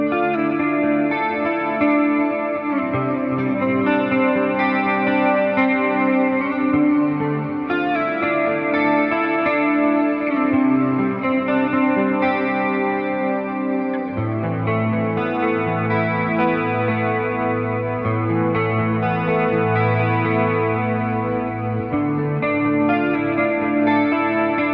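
An electric guitar runs through a Fractal Band Commander amp into a 1x12 Deluxe cab, playing a sustained, richly harmonic chorus-tinged riff with chord changes, loud and steady throughout with no voices.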